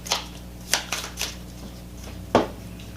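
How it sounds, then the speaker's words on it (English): Tarot cards being shuffled come through as a few quick, crisp riffling bursts separated by short pauses, close and fairly quiet, with no talking. "Shuffle these two real quick."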